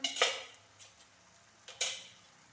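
A metal lid lifted off a pot of samosa filling, two clinking knocks of metal on metal separated by a pause, with faint scraping in between, quiet and close.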